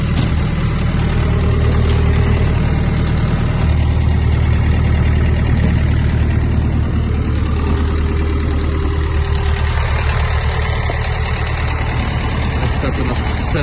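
A Mitsubishi MT-26 Japanese mini tractor's four-cylinder engine idles steadily and close by, a smooth, almost car-like low hum that holds even throughout, with someone talking over it.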